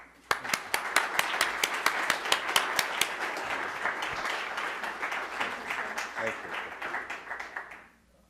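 An audience at a university talk on creation care and the environment bursts into sustained applause welcoming a priest to the podium, dense steady clapping lasting several seconds before fading out at the end.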